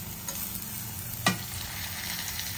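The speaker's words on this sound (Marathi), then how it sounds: "आता आपल्याला हे पण छान मस्त टोमॅटो थोडा परतून घ्यायचा आहे हलकासा" Tomatoes and garlic fry in a pan while being stirred, a steady moderate sizzle with one sharp utensil clink partway through.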